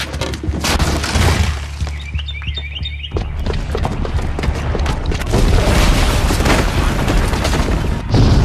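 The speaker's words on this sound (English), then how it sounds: "the booby trap on the bomb downstairs is gonna get set off" A booby-trapped bomb goes off in Horizon Zero Dawn, a loud, close blast rumbling heavily. Shattering debris and mechanical crunches follow, with a brief lull before sustained, roaring destruction fills the rest.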